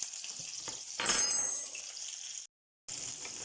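Meatballs fry and sizzle in a pan with a steady hiss, a louder burst of sizzling as they are moved, and a light clink of utensil against the pan before a brief silence.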